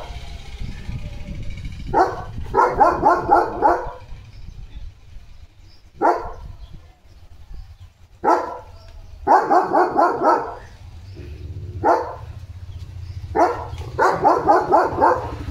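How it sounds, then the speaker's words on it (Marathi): Dogs bark in repeated bursts, a German Shepherd named Leo and another dog, loud and close in a garden with rose plants, separated by short pauses and brief sharp single barks. "दुसरा डॉग आहे तिथं"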